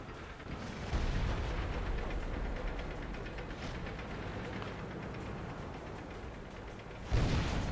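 Heavy cannon blasts from tank guns in World of Tanks, with a booming shot near the start and another near the end over a constant rumbling battle din.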